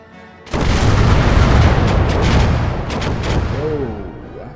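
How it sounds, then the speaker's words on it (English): A satchel charge detonating in the war game Call to Arms, setting off a chain reaction: a sudden loud, close boom that rolls into a long sustained rumble with further blasts, and a voice briefly heard near the end. "I'll just throw a satchel charge in there and then chain reaction"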